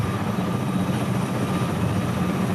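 V-22 Osprey tiltrotor aircraft taking off, a loud, steady rotor and engine roar filling the whole short stretch, continuous and close with no talking.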